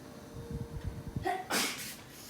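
A young child sneezes once, close by and fairly loud, in a home kitchen where pies are baking. Low murmuring sounds come just before the sneeze.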